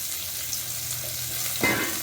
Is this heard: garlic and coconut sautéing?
yes